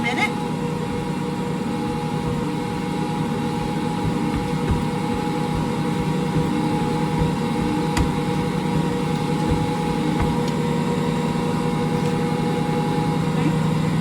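A stand mixer kneads paczki dough with a steady low motor hum and faint rhythmic thumping that runs unbroken throughout, with a voice talking over it.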